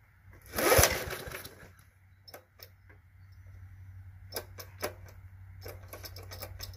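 A vintage Snapper Commercial Hi-Vac 214X1P self-propelled mower with a Briggs & Stratton 4 hp engine sputters and catches, a loud burst settling into a steady low idle hum, with scattered clicks and knocks over the running engine.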